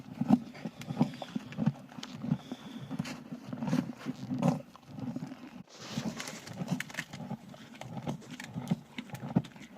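Horses being moved into a new stable, with a steady rumble of shuffling hooves and snorting or low animal vocal sounds carrying throughout, close and fairly loud, with no talk.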